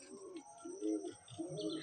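Old nasal Madrasi/Malwai pigeon cooing softly up close, a few low, rolling coos in a quiet setting.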